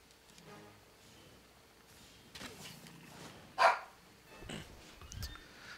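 A dog barks a few times indoors, sharp short barks standing out over quiet background sounds of a Monster Hunter World gameplay session, with no talking.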